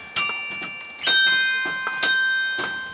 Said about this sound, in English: Sounds like wind chimes.